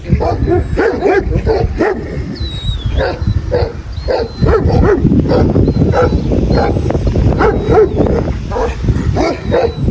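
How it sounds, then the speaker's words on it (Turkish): A sheepdog barks repeatedly at close range, sharp yaps in irregular bursts with some whimpering between them. "Yani böyle tam koyun köpeği."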